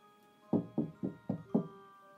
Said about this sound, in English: I was suddenly startled by a familiar pounding on my front door.